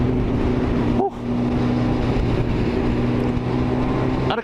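A 1000cc two-stroke engine drones steadily and loudly nearby with a rushing, wind-buffeted roar, dipping briefly once before carrying on.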